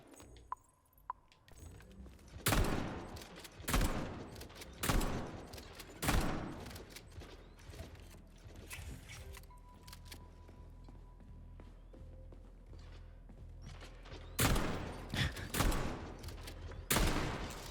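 Gunfire from a weapon in the Atomic Heart video game: several loud, sharp shots at irregular intervals, with bursts near the start, a pair around the middle and a cluster near the end, set against a steady game ambience.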